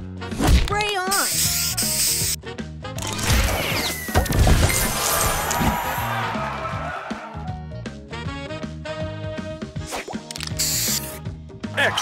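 Match and Hatch mobile puzzle game effects: a busy string of bright chimes, ratcheting clicks, swooshes and crashing bursts as a spray booster fires over background music, with a voice announcing moves in between.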